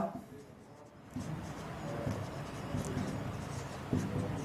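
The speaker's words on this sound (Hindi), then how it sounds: "जैसे कि एक नाम लिखते हैं हम ब्रेसिका" Pen or marker writing out a scientific name, Brassica campestris, during a biology lesson on diversity in the living world; continuous close scratchy strokes with brief pauses and no talk.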